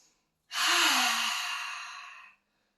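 A single deep inhale taken in yoga goddess pose, one long, close, airy breath lasting nearly two seconds, then silence.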